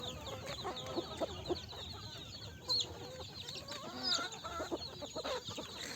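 Free-range country chickens cluck steadily inside a farm poultry shed, many birds close by in a continuous chatter, with occasional louder squawks rising above it.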